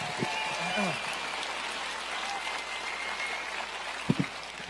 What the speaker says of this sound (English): So one more round of applause for Judith.